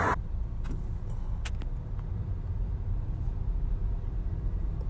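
A car drives through Portland traffic and over a bridge, giving a steady low road and engine rumble throughout with a few faint clicks and rattles inside the cabin, no one speaking.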